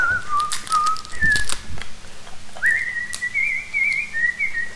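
People whistle together in a kitchen while cooking halal chicken, producing clear sustained melodic whistled notes that slide and waver, sometimes two tones at once, with faint clatter and background noise underneath.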